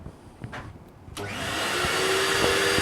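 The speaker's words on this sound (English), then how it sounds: "Vacuum cleaners are indispensable." A workshop vacuum cleaner starts with a click and spins up into a loud, steady whine that holds to the end, preceded by a few small knocks.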